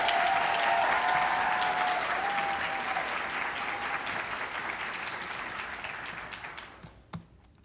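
Sustained audience applause at a college speech and debate tournament awards ceremony, dense steady clapping from a large crowd that slowly fades out over several seconds, ending with a single sharp knock.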